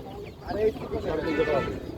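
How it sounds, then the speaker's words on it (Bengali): Tiger chickens at a busy poultry market give a few short, close clucks amid the murmur of people talking nearby. "এখানে কিছু টাইগার মুরগি দেখেন এগুলো কি টাইগার মুরগি"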